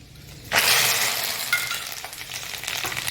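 Dried red chillies and curry leaves dropped into hot tempering oil set off a sudden loud burst of sizzling that gradually settles into steady crackling frying with a few stirring clinks.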